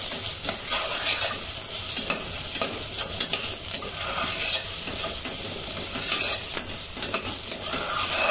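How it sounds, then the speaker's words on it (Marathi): Spice masala with turmeric and colouring chilli powder being stirred in a pan for chana masala, a steady sizzle with repeated scraping strokes of a spoon throughout, close and fairly loud, no voices. "मसाला मिक्स करून घेऊया"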